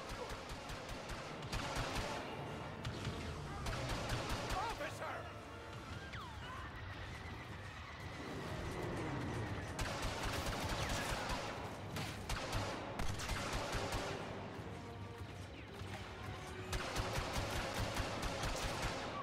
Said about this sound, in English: I'm really just shooting across that whole line